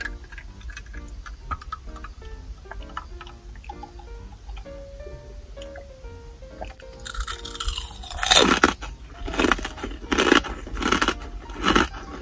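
Up-close crunching and chewing of plum rice crackers (ume senbei), soft clicks at first, then loud, brittle bites and crunches in bursts toward the end.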